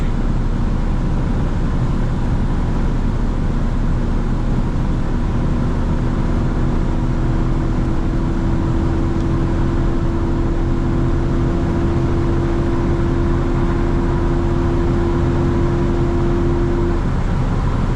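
A 1998 BMW E36 with a 4.4 V8 accelerating gently on a road, its steady engine hum and drone continuous and close throughout, with a sustained low tone and no talk over it.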